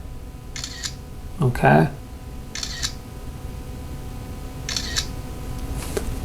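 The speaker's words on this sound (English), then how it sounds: "I'll just take a quick photo of my little hourglass right here just so you can just see the speed" A Nubia Flip 5G phone camera firing its shutter, with several short clicky bursts spread across the stretch and a brief word spoken partway through, all close and fairly quiet.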